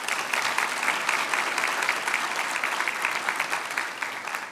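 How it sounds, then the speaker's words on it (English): Audience applause at a chamber of commerce annual dinner, a dense, steady clapping from a sizable room that holds evenly throughout. "let's give them a big round of applause"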